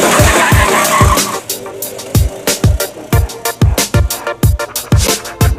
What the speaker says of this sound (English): As you can see, the kart's pretty fast.